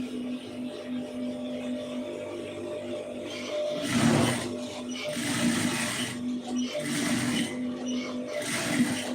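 A sewing machine runs in several short bursts while stitching a neck design on layered fabric, a steady hum with pauses between runs, close and moderately loud.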